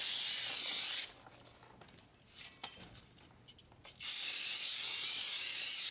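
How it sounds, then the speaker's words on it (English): Aerosol brake cleaner sprayed onto a new brake rotor for a Mercedes E350 rear brake job, two loud, sustained hissing blasts close by, separated by a pause filled with faint clinks and handling noises. "I'm going to clean the new brake rotor with some brake clean."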